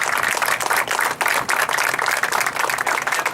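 A crowd at a bridge ribbon-cutting ceremony claps in a brief, dense burst of applause, steady and fairly close throughout.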